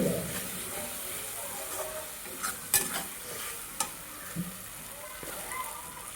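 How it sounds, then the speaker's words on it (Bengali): A paste of ground ginger, onion, chili and garlic with turmeric and Kashmiri chili powder fries in a pan, giving a continuous soft sizzle with occasional scraping and tapping as it is stirred. "মশলাটা ভালো মতো কষানো হয়"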